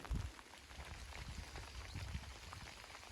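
Faint, soft patter of light rain falling steadily, a quiet wash of drips with no voices.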